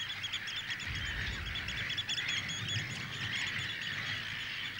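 Gulls call over a dense, steady outdoor wash of wind or surf on the island of Spiekeroog, their cries faint and mixed into continuous noise.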